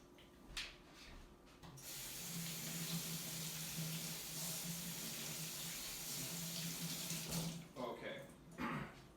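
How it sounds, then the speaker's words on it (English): A kitchen tap runs steadily for several seconds as two celery sticks are rinsed under the water. The splashing starts and stops, with handling noises at the beginning and end. "2 celery sticks. I'm going to rinse these first."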